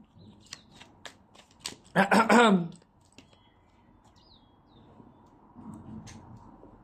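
Tarot cards are shuffled and drawn by hand, heard as a few scattered flicks and snaps and then one brief riffle burst, close and quiet. A voice speaks around the card sounds.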